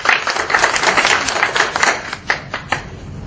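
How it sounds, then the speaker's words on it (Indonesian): Sparse applause at a debate: a small scattering of hands claps for a couple of seconds, then thins to a few isolated claps near the end. "Kita beri tepuk tangan kepada Pak Gerson"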